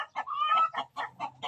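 A hen on a provincial farm gives a rhythmic run of clucks around one stretched, rising squawk, heard up close and alone.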